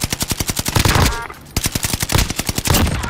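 Rapid gunfire in the Call of Duty Warzone game, with sharp, evenly spaced automatic shots in a steady rhythm that pause briefly and then resume, close and loud.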